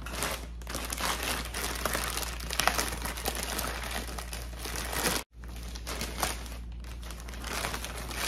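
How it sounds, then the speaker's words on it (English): Packaging for Red Wing Moc Toe 8849 boots crinkles and tears continuously during unboxing, close and busy, with a brief silent gap before the rustling resumes. "So let us unbox this item."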